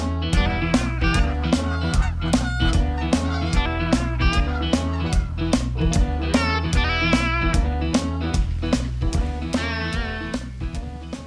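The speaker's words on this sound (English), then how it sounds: "So we have 3 banded geese out front right now." Banded wild geese honk repeatedly from out in front of a hunting blind, a loud, busy run of overlapping calls that keeps going with no gap for the whole stretch.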